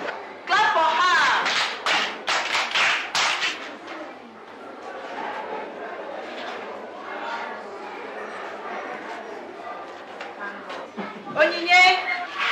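Children in a classroom clap for a girl after a spelling turn, a loud uneven burst of hand claps with voices mixed in, fading into murmuring chatter and a brief clap flurry near the end.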